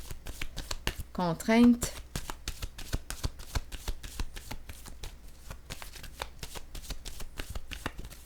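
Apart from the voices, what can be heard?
tarot cards being laid down and shuffled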